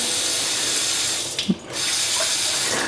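Water runs from a hotel bathroom tap on the 40th floor in Hong Kong, a loud, close, steady hiss and splash that briefly dips and gurgles midway before resuming.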